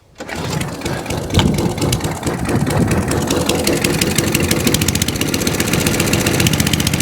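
A small petrol engine on an Atco Balmoral cylinder mower starts up on half choke and settles into a steady, busy idle with a fast mechanical clatter, running close by without voices.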